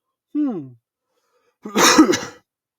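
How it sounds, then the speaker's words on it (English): A short voiced throat sound, then a harsh, loud cough burst after a pause, close to the listener. "Sorry for the coughs again."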